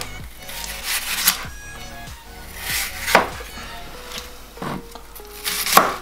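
Onion chopped by hand on a board, several uneven knife strikes landing close by, with faint background sounds between the cuts.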